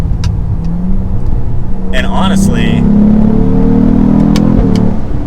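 A 2022 Cadillac CT4-V Blackwing sports car engine revs up and climbs steadily in pitch while someone speaks briefly over it near the start.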